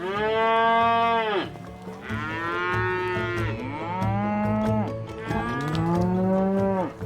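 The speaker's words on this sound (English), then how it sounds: "Oh, that's a bloody cow." Cattle in a field in Connemara, Galway, moo loudly and close by, several long overlapping calls rising and falling one after another with no pauses.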